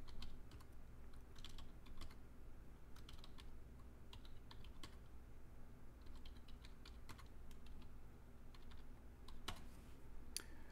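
Typing on a computer keyboard, faint and close, with quick irregular bursts of light key clicks spread across the whole stretch over a low steady hum, with no talk.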